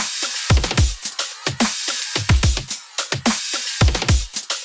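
Punchy electronic drums from the intro of a remix loop in a steady groove, with deep booming kicks, crisp snares and bright hi-hats repeating in a tight pattern, no voices.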